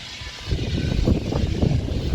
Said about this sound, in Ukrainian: Зараз погода така, вітер, але не холодно.